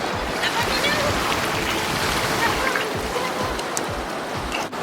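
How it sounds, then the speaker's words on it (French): A small stream flows across a beach, a close, steady rush of water with bursts of splashing and a breezy wash, and voices can be heard over it. "On s'est trouvé une petite rivière privée."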